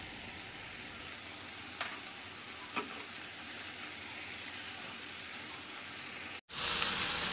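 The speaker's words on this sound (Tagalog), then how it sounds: "igisa lang ng mabuti" Fish dish ingredients sauté in a hot pan with a continuous bright sizzle and a few stirring scrapes, cut by a brief sharp break near the end.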